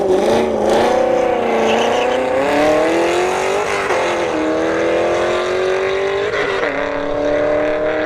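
Corvette C5 drag car with a Hennessy windshield banner making a loud, sustained engine roar on a dragstrip, the pitch climbing steadily as it runs, with no talk over it.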